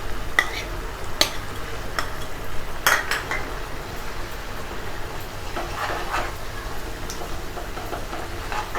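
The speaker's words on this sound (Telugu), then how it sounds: "ఇవన్నీ కూరలో మిక్స్ చేసుకోవాలి." Spoon scrapes and clatters against the pot as ginger-garlic paste, coriander powder and fresh coconut are stirred into a sizzling ridge gourd and chana dal curry. The strokes come close and irregular, with frying hiss underneath and no talk.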